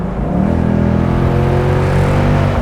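Ford Mustang with a 10-speed automatic, loud from inside as the engine drone climbs through a downshift and pulls hard under acceleration, sustained and steady.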